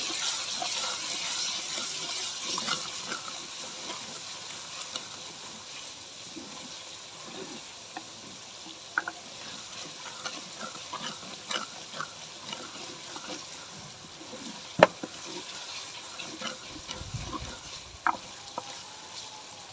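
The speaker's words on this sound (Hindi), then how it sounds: "थोड़ा सा पानी ऐड करेंगे ताकि मसाला जो अच्छी तरह पक जाए।" Masala for daal sizzling in a pan as water goes in, a steady soft frying hiss through the whole stretch with scattered sharp crackles and pops, one louder pop near the end, no voices.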